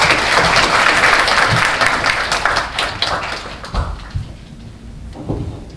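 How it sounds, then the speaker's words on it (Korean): An audience applauds to welcome a speaker at a Korean seminar on Facebook marketing, a full steady round of clapping that thins and fades out over several seconds into scattered claps. "박수로 환영해 주십시오"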